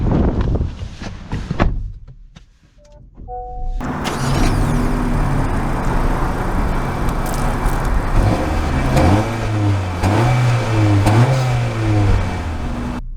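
A 2023 Honda Civic Sport Touring turbo hatchback pulls away with its engine rising steadily and rhythmic rev swells as it accelerates, after a brief quiet moment of cabin clicks.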